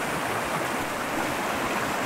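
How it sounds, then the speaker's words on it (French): A mountain torrent where several streams meet rushes in a steady, dense roar of water. It sounds close and continuous, with no voices. "Ça doit être un torrent le truc."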